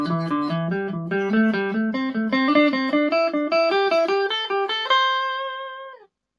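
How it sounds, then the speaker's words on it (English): Guitar playing a scale in thirds in the G pattern, paired notes climbing step by step in a steady even rhythm, clean and close, ending on a sustained chord that rings out, no talking. "it's called playing scales and thirds,"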